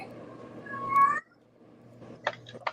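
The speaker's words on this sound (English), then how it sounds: "Who's got the kitty?" A house cat meows indoors: one clear, drawn-out meow near the start, then a pause and a few short, chirpy mews, moderately close and without talk over it.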